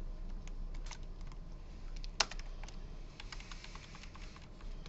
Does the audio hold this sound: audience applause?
no